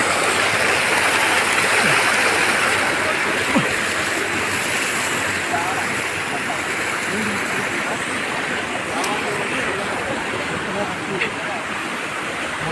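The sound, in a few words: flowing stream water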